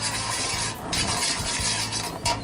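Food sizzling in coconut oil in a wok, a soft crackling hiss broken by brief bursts of stirring and scraping, close and fairly quiet with no voices.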